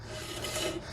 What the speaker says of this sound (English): shoes touching the drums. It's nothing to do with the bearings.